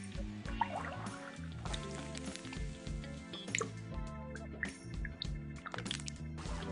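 Purified drinking water drips and pours in a clean, close series of plinks and splashes over a soft musical bed, the drops falling in an uneven rhythm throughout.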